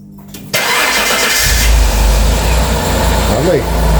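A fleet vehicle's engine cranks and catches after a battery replacement, a sudden loud start that settles into a steady close idle, with voices talking over it.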